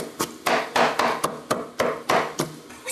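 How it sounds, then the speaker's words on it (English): A knife finely minces peppers on a board, producing quick, sharp, rhythmic chopping strikes, about ten over a few seconds, close and crisp with no talking. "So you really want to make sure that you mince this up very finely."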